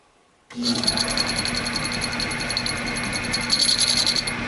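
A metal lathe faces off a power steering part, running as a steady close mechanical whir with a high whine and light rattle that starts abruptly and continues evenly.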